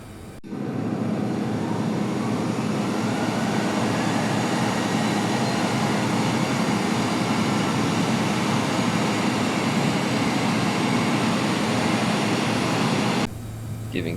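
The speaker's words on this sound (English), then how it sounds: "Starting engine 1." Simulated Boeing 747-8F engine 1 in Microsoft Flight Simulator spins up with a sudden steady roar and a rising whine that hold evenly near the listener, then drop off at the end.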